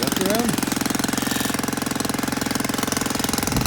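A Schwinn Meridian motorized tricycle's 49cc 4-stroke engine running, a fast steady pulsing putter close by, with someone speaking briefly over it at the start.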